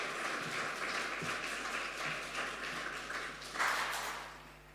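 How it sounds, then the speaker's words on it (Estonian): Audience applause at a municipal awards ceremony for Estonia's Independence Day in Antsla parish, steady clapping filling the room and swelling briefly near the end before fading. "Suur aplaus teile endile, aitäh!"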